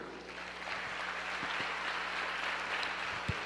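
Church congregation clapping during a sermon, a soft, diffuse patter of applause at moderate distance that stays fairly even throughout, with a few sharper knocks or thumps breaking through.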